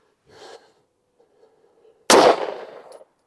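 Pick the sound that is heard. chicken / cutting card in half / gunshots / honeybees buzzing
gunshots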